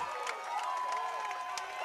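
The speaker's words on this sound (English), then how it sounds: "And now this crowd goes ecstatic." Softball game crowd cheering after a batter is hit by a pitch to drive in the tying run, a sustained excited roar of voices with shouts rising and falling over a couple of seconds.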